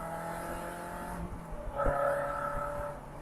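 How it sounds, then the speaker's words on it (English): An MG TF sports car's exhaust idles with a low steady burble, then blips into a brief rev that rises and settles, heard fairly close with no talking. "Oh man, I love that exhaust."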